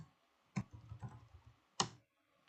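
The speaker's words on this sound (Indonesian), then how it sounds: "sekarang kita akan coba mengetikkan ipconfig renew" Computer keyboard keys are struck in a short burst of clicks: one sharp tap, a quick cluster of lighter presses, then a final crisp keystroke, all close and dry against a quiet room.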